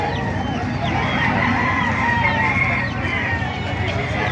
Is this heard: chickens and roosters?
yes